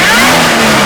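A modified 2016 Toyota Land Cruiser 76 with a TRD supercharged engine revs loudly and close by, a brief, dense roar with a rising pitch.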